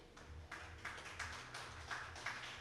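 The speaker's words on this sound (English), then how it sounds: "Round of applause for this festival, please." Sparse applause from a small audience at Shrimp Fest, a seafood festival: a few scattered, faint claps in uneven bursts rather than a full ovation.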